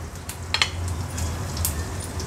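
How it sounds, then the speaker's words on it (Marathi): Mustard seeds, cumin and garlic fry in hot oil with a soft, steady sizzle and a few faint pops and crackles, close and quiet, with no talk. "राई, जिरं आणि लसूण तेलावर थोडं परतून घ्यायचं आहे"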